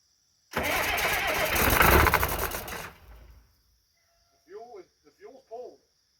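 A crashed Case 2290 tractor is cranked over with the fuel shut off: a loud, rapid mechanical cranking churns for a couple of seconds, then stops, followed by a few short bursts of speech.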